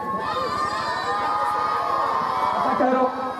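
A dense crowd shouts and yells at once, loud and close, the overlapping voices forming a continuous agitated roar for the full few seconds.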